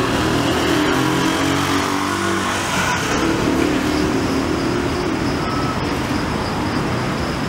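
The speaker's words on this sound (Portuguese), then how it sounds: "É um vai e vem de veículos nessa avenida" Busy avenue traffic in Salvador's Cabula area near road works, with a dense, loud, continuous roar of cars, buses and trucks passing and engines revving, heard steadily throughout without voices.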